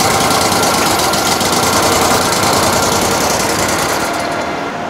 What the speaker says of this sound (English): I'm gonna power this back on and run that cylinder all the way in,